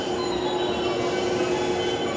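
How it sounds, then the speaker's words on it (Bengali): A train stands at Yokohama Station in Japan as passengers get off. A continuous mechanical rumble carries a steady high whine and faint metallic squeal, and no voices are heard. "দেখতে পাচ্ছেন ট্রেন থেকে ওরা নামছে।"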